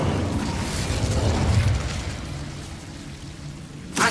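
Incendio fire spell cast in Hogwarts Legacy, heard as a rushing, whooshing burst of flame that swells and then fades, ending with a brief bright crackle.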